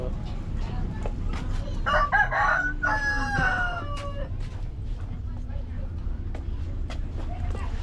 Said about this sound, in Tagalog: Yan, may panabong na manok.